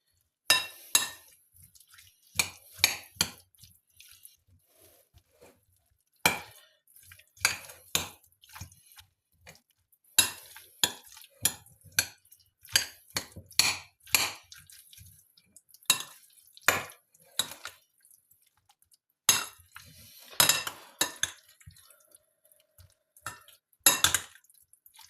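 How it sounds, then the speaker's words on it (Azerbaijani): Crab salad being stirred in a bowl, with a utensil scraping and clinking against the sides in irregular bursts of wet mixing strokes and short pauses, fairly close and unaccompanied by talk. "Və yaxşıca qarışdırırıq."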